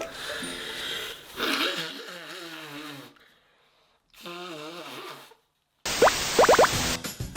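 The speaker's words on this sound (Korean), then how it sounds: "코를 풀고 시작하겠습니다." A congested person blows their nose in a small room, a wet, honking burst with crackly snorts near the end, following quieter breathy sniffs and pauses.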